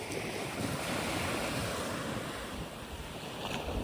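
Ocean surf on a New Zealand shoreline during trevally fishing, a steady, loud wash of waves with wind buffeting the microphone throughout and no voices.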